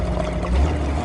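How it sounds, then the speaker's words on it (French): A motor pumping water up from a spring gives a steady low hum with a gurgling, pouring wash of water over it, sustained and fairly close throughout. "Là c'est le moteur qui aspire l'eau là."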